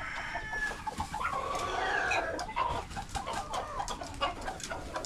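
Farmyard chickens cluck and chatter near and far while a rooster crows briefly, forming a busy, continuous flock sound with no talking.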